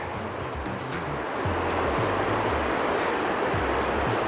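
River flowing beside a large campsite in the Great Smoky Mountains, a steady broadband rush of water that holds level throughout, with low rumbling pulses underneath.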